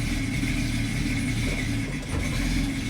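A Ford 200 inline-six with multiport fuel injection runs as the car drops into gear; a continuous low engine rumble that dips briefly near the end, no talking.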